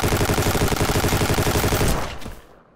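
Rapid automatic gunfire in the video game Ancient Warfare 3 on a beach assault battlefield, a dense, loud burst of shots that cuts off and decays near the end.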